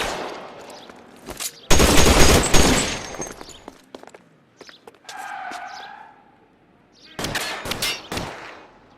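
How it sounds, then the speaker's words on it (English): Suppression gunfire from L.A. Noire, two loud sustained bursts of rapid shots separated by a quieter stretch with a wavering siren-like tone and scattered single shots. "I'll lay down some suppression fire."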